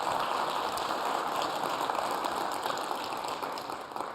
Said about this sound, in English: Big round of applause for Espen.